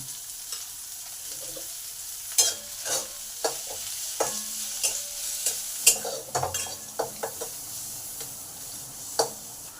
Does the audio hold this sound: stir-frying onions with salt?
yes